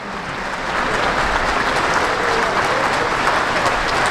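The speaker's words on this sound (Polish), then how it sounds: "Te brawa są właśnie dla Was." Crowd at an open-air concert in Radom applauding, a broad, steady roar of clapping that swells in after a moment and stays loud and dense.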